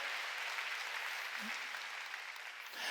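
Congregation applause during a Korean Sunday church service, a steady wash of many hands clapping that holds evenly across the clip at moderate distance.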